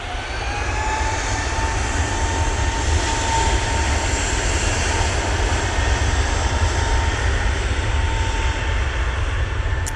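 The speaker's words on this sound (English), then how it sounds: "EasyJet, now on the roll. Off to Istanbul." An EasyJet jet airliner on its takeoff roll at Manchester Airport, bound for Istanbul, gives a steady, sustained engine roar with a faint high whine, heard from a distance and unbroken for the whole stretch, with no voices.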